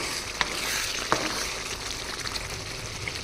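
Chicken masala powder being mixed with potato and egg in a pan, a soft continuous sizzle and bubbling with a couple of sharp utensil taps against the pan; no voices.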